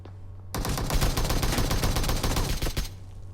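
Automatic gunfire in PUBG Mobile during an apartment squad fight: a sudden dense burst of rapid shots that runs for over two seconds, loud and close, then cuts off abruptly to quiet.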